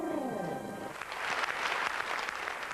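Concert audience at the Barbican Theatre in London breaks into applause, a moderately distant wash of clapping that swells after a brief musical tail at the start.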